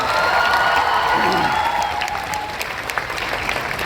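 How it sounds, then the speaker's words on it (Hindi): Loud, dense applause from an audience at an event stage with actor Pankaj Tripathi, sustained throughout with some cheering mixed in, easing slightly toward the end. "एक बार जोरदार तालियां होना चाहिए"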